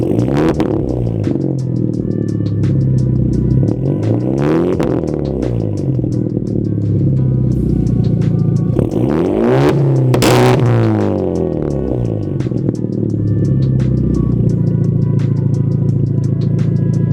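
A Hyundai Genesis Coupe fitted with an ISR race exhaust revs repeatedly, several sharp rising blips that fall back to a deep, raspy idle rumble, loud and close throughout with no talking.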